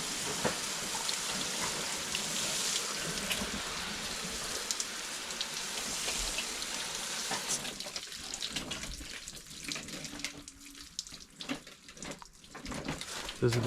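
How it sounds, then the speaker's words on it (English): Water runs out of drain holes in a Sprinter van's roof, a continuous splashing patter like rain on a hard surface, with light knocks and some movement near the end. "See the water draining out of those."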